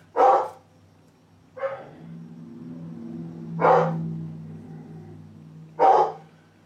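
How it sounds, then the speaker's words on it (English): Dogs bark from somewhere nearby in four separate loud barks spread a second or two apart, with a low steady hum filling the gaps between them. "you got dogs down there."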